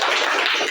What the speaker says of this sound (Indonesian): Terima kasih untuk kelompok 6. Tepuk tangan ya.